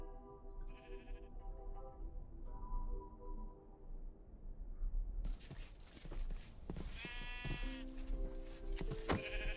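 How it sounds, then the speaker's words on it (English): Sheep bleating in the video game Minecraft: several short, nasal bleats come in separate bursts, each close and clear, with clicks and game effects mixed in between and no talking. "Oh, sheep!"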